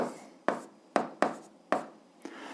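Five quick, crisp scratching strokes of writing out an eighth-grade algebra fraction solution, each a short sharp stroke with a brief fading tail, spaced irregularly about half a second apart.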